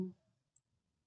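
A single quick computer mouse click on an OK button in Excel, close and crisp, followed by near silence with a faint tick.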